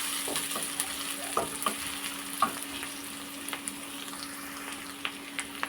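Onions and tomatoes sautéing in a pan for a neem flower kuzhambu, a steady close sizzle and frying hiss with scattered spoon scrapes and stirring clicks, no voices.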